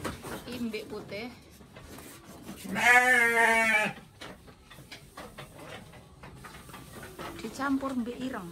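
A white goat lets out one loud, long, quavering bleat in the middle, with people talking nearby before and after it.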